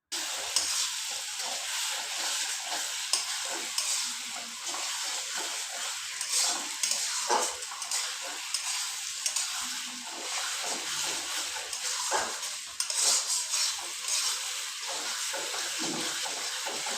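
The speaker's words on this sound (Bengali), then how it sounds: "তাই নাড়াচাড়া দিয়ে দিচ্ছি।" Goat meat frying and sizzling in a pan while being stirred, a steady hiss with scattered scraping and clacking accents throughout, no talking.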